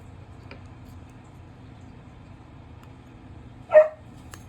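Mostly quiet room tone, then a single short dog bark from right outside the window near the end, with a faint sound just before it.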